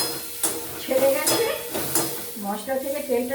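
Crab masala being sautéed in a pan with little oil, a moist sizzle broken by scraping stirs and clinks of a spoon against the pan, close and fairly loud.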